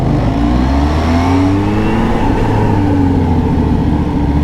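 A Kawasaki ZH2 motorcycle on a ride near the Sea Cliff Bridge, its engine droning loudly and continuously with rising and falling pitch as it accelerates, wind roar underneath.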